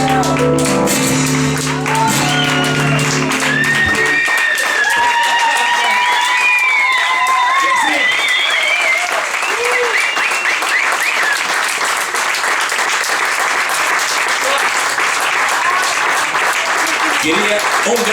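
Loud, sustained audience applause fills the whole stretch after a short sung or musical passage at a choro music performance, with some cheering and whistles mixed into the steady clapping.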